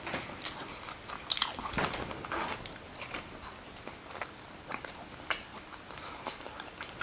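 Someone biting into and chewing surf and turf tacos with soft crunches and wet mastication, close-up but quiet, no talking.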